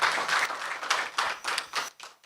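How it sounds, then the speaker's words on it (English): A crowd claps in a short burst of applause that fades toward the end. "I believe that deserves another round of applause."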